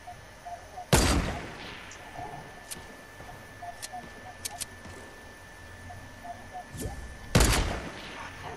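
Two sharp, isolated gunshots from the video game Fortnite, about six seconds apart, each loud and broadband, over faint game ambience and scattered small clicks.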